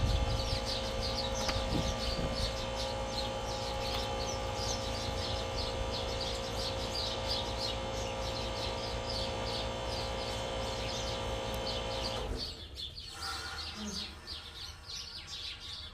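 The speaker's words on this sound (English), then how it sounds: "A big flock of birds just flew into the orange tree and they're being very loud." A big flock of birds chirping loudly and continuously from an orange tree, a dense chorus of overlapping tweets that drops away abruptly near the end.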